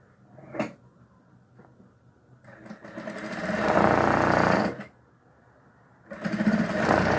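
A sewing machine stitches through a quilted zipper box with batting, running in a loud close mechanical whir for about two seconds, then stopping briefly before starting up again.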